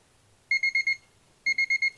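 An exercise timer alarm beeps in two quick bursts of four sharp, high electronic tones each, loud and clear over a quiet room with no talking.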